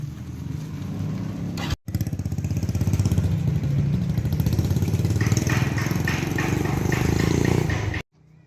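A motorcycle engine runs close by as the bike is taken for a test ride, a steady pulsing drone that briefly cuts out and then builds slightly before stopping abruptly.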